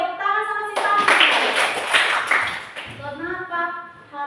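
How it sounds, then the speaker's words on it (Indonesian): A classroom claps for a student, a burst of brisk, close applause lasting about two seconds between stretches of a voice talking. "tepuk tangan sama si Tami"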